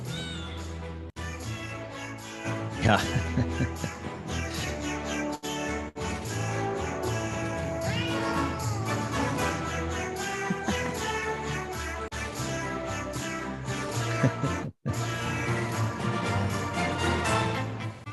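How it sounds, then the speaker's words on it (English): A music track from the game Potionomics, in which meowing cat voices sing melodic lines over a layered instrumental backing, plays steadily throughout with a couple of brief dropouts; a voice briefly speaks. "after the cats sing for a while"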